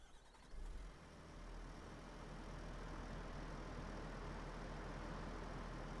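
A farm machine's engine in Farming Simulator cranks and fires up, settling into a steady, loud, broadband rumble with a deep low drone that holds on without talk.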